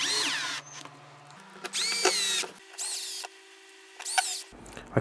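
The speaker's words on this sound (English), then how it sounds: "Turn it over and gently get some screws in." An electric screwdriver drives screws into a 3D printed flight management computer case. Four separate whirring motor bursts rise and fall in pitch, close and fairly loud, with short pauses between them.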